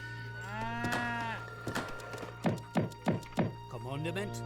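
Cows in Age of Empires III give several low, drawn-out moos alongside a string of short thunks and in-game unit voice cues, with a steady background hum as the game runs.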